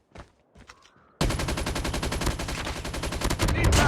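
After a few faint, scattered sounds, sustained automatic gunfire erupts in a Call of Duty match: loud, rapid, overlapping bursts that continue without pause to the end.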